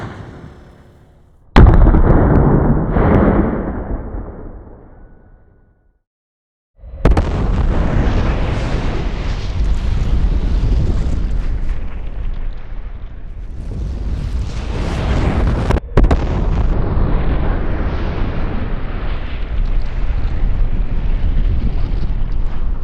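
Detonating cord fired outdoors at a high-speed ballistics test site, with a sharp, loud blast after a brief shouted warning, then a long, roaring, rumbling wash of noise that stays heavy for the rest of the stretch.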